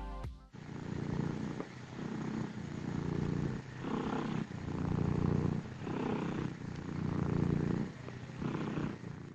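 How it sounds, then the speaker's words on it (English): Cat purring used as the sound effect for Catnap in the Poppy Playtime video game, a continuous close rumbling purr in steady inhale and exhale cycles, loud and alone after a brief opening tone. "one for him purring, which honestly just sounds like purrs of a real cat."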